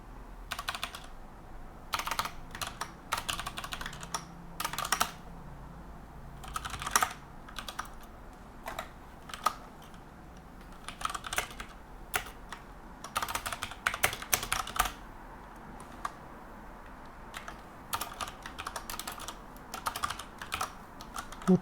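Typing on a computer keyboard during a Linux debugging session, with irregular bursts of soft clicking keystrokes and short pauses, close and fairly quiet.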